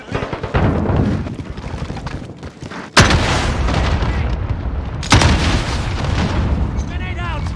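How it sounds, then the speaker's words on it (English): In Call of Duty Modern Warfare Hardpoint multiplayer, two sharp, loud booming blasts land a couple of seconds apart, each followed by rumbling debris, set among constant gunfire and in-game voice callouts. "Grenade out!"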